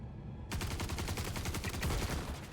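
Rapid bursts of gunfire from the space game Star Citizen during a mission firefight, a steady stream of sharp close shots that start abruptly and repeat quickly with no pause.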